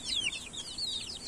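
Young chickens in a cage make quick, high-pitched peeping chirps in a rapid cluster, faint and brief.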